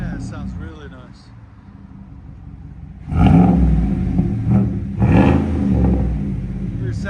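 A 2018 GMC Sierra Denali with a 6.2L V8 and a CARVEN R-Series exhaust with resonator delete and 5-inch tip idles with a low rumble, then blips twice in loud, short revs close by, with voices talking at the start.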